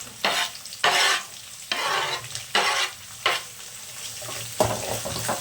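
Chillies, onion and curry leaves fry in a pan, with loud rhythmic scraping strokes of stirring about once a second over a steady sizzle.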